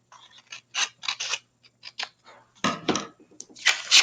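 Scissors cut carefully along a straight line on a sheet of paper, giving a series of crisp snips and crunches, close and distinct, bunching into a louder run near the end.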